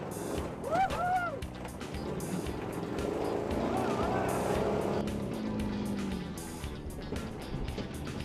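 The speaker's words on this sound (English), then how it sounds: "Driving this Humvee in the dirt is so much fun." A Humvee drives off-road along a dirt trail, its engine droning steadily and loudly close by while a voice cheers and talks over it.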